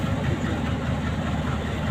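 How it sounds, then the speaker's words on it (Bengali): A yellow passenger train bound for Dhaka rolls past at a railway station, a steady close rumble with a low clatter of wheels on track, no voices present. "আসলে দীর্ঘ সময় ধরে যাচ্ছে এই ট্রেনটি"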